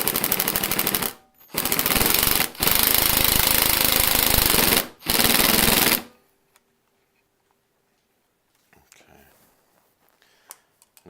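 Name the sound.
driving screws in with a power drill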